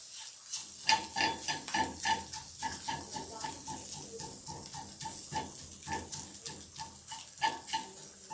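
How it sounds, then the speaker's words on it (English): Eggs scramble and fry in a huge pan with a steady sizzle and repeated scraping strokes from a utensil, close and moderately loud. "Look at how fast that scrambled up."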